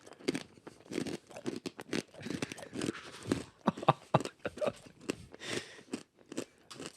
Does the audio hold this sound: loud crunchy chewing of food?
yes